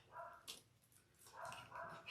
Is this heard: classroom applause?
no